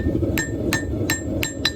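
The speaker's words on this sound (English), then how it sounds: "Now I'm going to start forging in that tip." Five evenly spaced ringing hammer blows land on hot steel while the tip of a knife made from a 200-year-old horseshoe is forged, each strike bright and metallic over a steady low roar.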